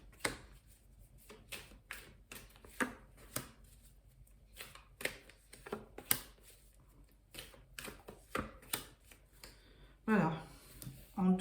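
Tarot cards being shuffled and laid out for a nine-card spread make quick riffling flicks and soft taps in a steady run, close and quiet, while someone speaks throughout.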